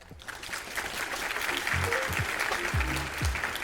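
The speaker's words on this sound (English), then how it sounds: "let's give them one more round of applause." Audience applause at a sports foundation scholarship and awards ceremony: continuous clapping from a large hall, fairly distant and soft, holding steady, with a few low thumps and murmurs underneath.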